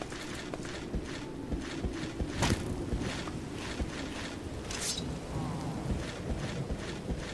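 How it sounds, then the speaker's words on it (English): Steady rain hisses throughout in the video game Minecraft, with rumbling thunder rolls and brief sharp crackles breaking through at moments; no one talks over it. "And it's raining."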